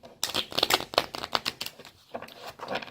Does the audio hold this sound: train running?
no